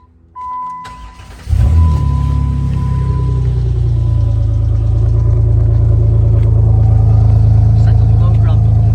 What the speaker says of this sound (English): Let you hear the exhaust for a little bit.